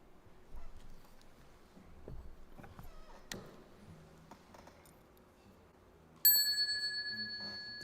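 At a Guanyin Dharma session, a bell is struck once for a chanted bell song. It rings out clear and sustained, slowly fading, after several seconds of quiet shuffling and soft knocks.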